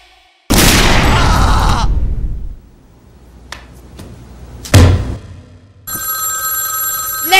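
After a loud roaring burst and a few sharp hits, a telephone starts ringing at a concert, a steady bright electronic ring that is close and loud.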